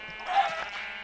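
Single sheep bleat in Minecraft, a short wavering nasal call lasting under a second, fairly close and clear over a quiet background.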